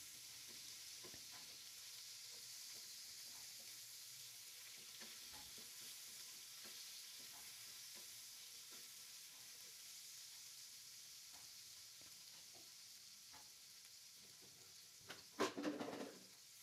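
Tomatoes and bird's eye chilies fry with fragrant onion in a pan, giving a steady, fairly quiet sizzle with soft stirring scrapes throughout and a short burst of louder clatter near the end.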